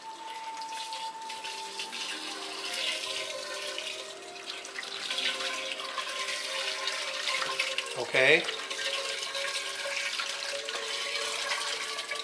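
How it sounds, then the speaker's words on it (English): Water being poured back into a water softener tank, a continuous rushing, splashing flow with a brief gurgling burst near the end, close and moderately loud, while a person speaks briefly. "we're going to just pour water back into the tank"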